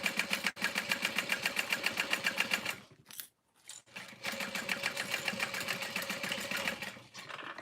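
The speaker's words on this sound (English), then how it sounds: "I'm sewing from the side with the zipper so that I can sew next to the zipper" A home sewing machine stitches a seam alongside a zipper on a sleepwear garment, its needle hammering in a steady rapid rhythm, briefly pausing before running again at an even pace, close and fairly loud.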